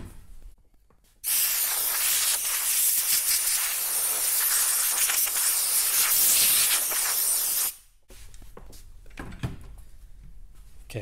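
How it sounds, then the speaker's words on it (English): Air compressor nozzle blowing out the internals of a Hermes Rocket typewriter, a loud, close, continuous hiss of compressed air lasting several seconds and then stopping abruptly, followed by faint handling clatter. "So, start with a little air compressor blowout."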